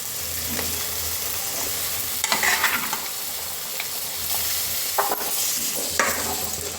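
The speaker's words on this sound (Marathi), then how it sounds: "मसाल्यामध्ये राजमा परतून घेऊया." Rajma kidney beans stir-fried into oil-rich masala in a pan for Punjabi dhaba-style rajma, with a steady sizzle and intermittent scraping and clinking of a spoon against the pan.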